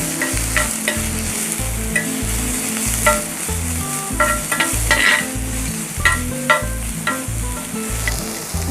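Pork sizzles and fries in a pan with garlic and ginger paste for an Assamese village-style pork with mustard spinach, a continuous close crackle broken by repeated scraping stirs of a utensil.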